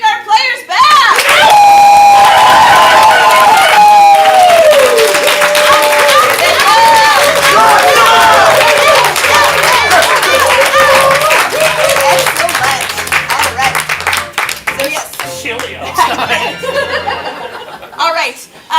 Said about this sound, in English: Let's clap and cheer.